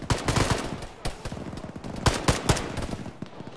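Dense gunfire in a tactical military shooter game: repeated sharp rifle cracks and bursts, some near and loud, others farther off, with bursts of automatic fire throughout.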